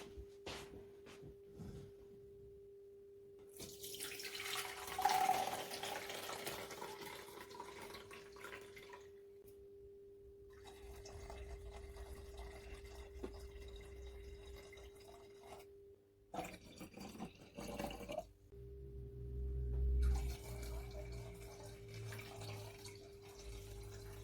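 Liquid is drained from containers and the containers are refilled with ginger bug for home-brewed ginger beer: running water pours and splashes in bursts, with pauses, drips and a steady low hum underneath.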